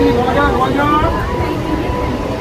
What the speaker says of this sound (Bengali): তো উঠে পড়েছি শিয়ালদা ট্রেন